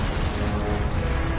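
A Confringo blasting spell erupts in Hogwarts Legacy as a dense, roaring burst of noise that holds steady and loud for its whole short span.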